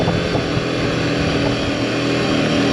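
Royal Enfield Himalayan 450 motorcycle being ridden, its engine droning loud and steady up close with a constant rumble throughout.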